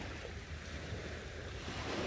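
Calm ocean waves wash steadily onto a beach, a continuous soft broadband rush of surf with a slight wind-like hiss and no distinct breaking crashes, alone without voices.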